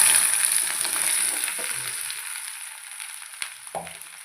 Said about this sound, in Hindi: यहाँ पर लगा दिया मैंने भिंडी को तड़का